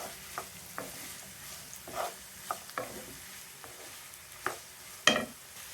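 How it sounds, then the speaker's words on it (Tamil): Onion stalks and onion flowers sauté in a pan with spluttering mustard seeds. A low steady sizzle is broken by periodic scraping stirs and sharp pops, with no voices. "கடுகு பொரிய வெங்காயத்தாள், வெங்காயப்பூ தாள் நல்லா வதங்கணும்."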